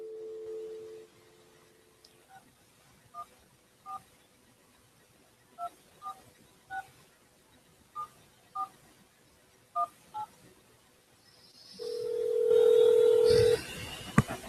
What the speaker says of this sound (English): Let's go ahead and give the Whitehall Police Department a phone call here.